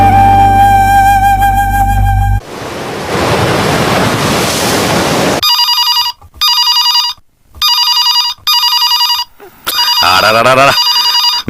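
A telephone rings in a Tamil television drama scene, a bright electronic ring repeating in short bursts with gaps between them, following a stretch of music and a surge of wave-like noise.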